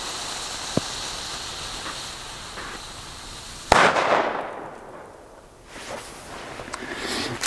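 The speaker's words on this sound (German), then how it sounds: "So, dann machen wir jetzt die Böller von Keller." Firecrackers set off outdoors in snow on New Year's Eve: a sharp near bang, then hissing and crackling bursts that fade and swell again, with no voices.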